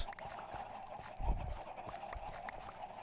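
Video-game chickens cluck faintly from a coop in a Minecraft-style world, with soft, repeated short clucks under low ambient noise and a brief louder thump partway through.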